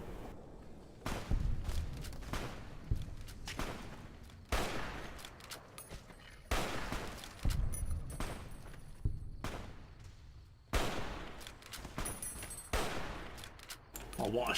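Gunfire in Fallout New Vegas, several loud bursts of shots with sharp blasts and echoing tails, separated by short quiet gaps.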